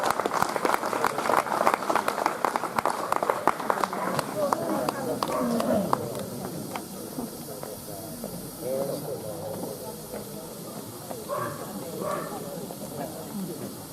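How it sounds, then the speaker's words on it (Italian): An audience at a Sardinian poetry contest applauds Alessandra Sorcinelli with a burst of clapping that thins out after about six seconds as people begin talking. "Un applauso a Alessandra Sorcinelli"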